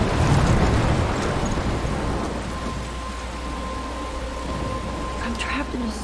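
Heavy rain and rumbling thunder in a stormy coastal scene in the video game Life is Strange. A loud, steady downpour with low rumbles and surf-like roar fills the scene.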